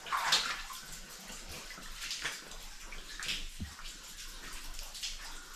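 Water sloshes and trickles in a flooded underground mine, where acidic, rust-stained water runs along corroded rail, a soft continuous splashing with a few close drips and no voices.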